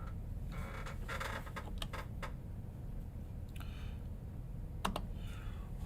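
Fingers tap on a computer keyboard while a list is typed in, giving quiet, close bursts of irregular key clicks with short pauses over a steady low room hum; no one speaks.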